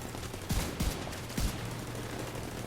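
Three spaced single gunshots from a Hanu build in the video game Anthem, each a sharp low thump with a brief tail, fired one at a time over a steady background hum.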